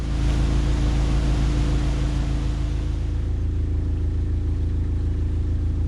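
Narrowboat diesel engine idling steadily inside a canal lock, a loud, close, continuous low throb and hum with no pauses, the sound easing slightly partway through.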